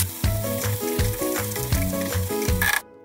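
Konjac noodles land in a hot pan with soy sauce and sizzle loudly and close. The frying crackle is steady and dense for about three seconds before it cuts off, with no voices.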